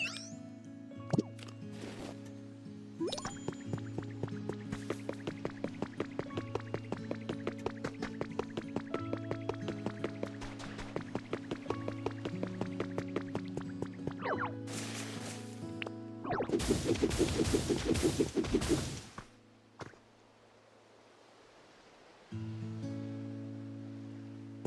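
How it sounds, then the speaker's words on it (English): A Pokemon sprays a steady stream of water from a water gun to wash away mud in Pokemon Pokopia, a continuous hissing spray running for several seconds, then a louder gushing burst near the end with soft game music underneath. "then we use our water gun and cleans it right up"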